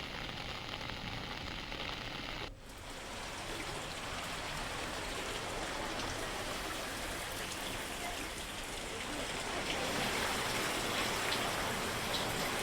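Heavy rain pouring over a flooded city in Bilaspur, a dense continuous hiss of drops on water and surfaces, steady throughout and slightly louder near the end.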